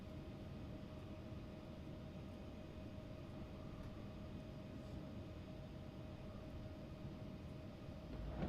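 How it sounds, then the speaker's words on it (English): A simulated aircraft tow tug approaches an ERJ175 in the X-Plane 12 flight simulator, heard as a steady, low engine rumble with a faint humming tone that holds evenly throughout and swells slightly at the end. "Tow is driving up."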